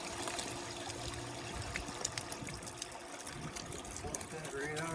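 Water pours and trickles steadily into a gold panning box, a continuous splashing stream heard close up with no voices over it.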